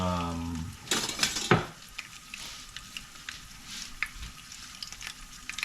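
Garlic pork bites in their garlic marinade sizzle steadily in a hot pan. A few sharp clatters of the pan and utensils stand out early on, then a quieter, continuous fry crackles underneath.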